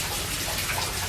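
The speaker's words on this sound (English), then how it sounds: "The water drains from this bed into the second bed, right down here through this PVC pump" Water drains steadily through a PVC pipe from one aquaponics grow bed into a second bed on a farm, a continuous close rushing gurgle with no pauses and no talk.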